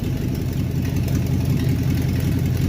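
A Ford Mustang Fox-body with T-tops runs steadily, its engine giving a loud, close, even rumble with no pauses.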